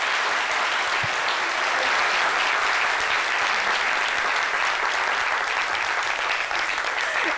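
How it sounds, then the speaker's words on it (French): A television studio audience applauding loudly on a midday talk show, a dense, sustained wall of clapping that holds evenly throughout. "notre cher et tendre Aloussène Sidibé, que je vous demande d'applaudir bien fort, s'il vous plaît."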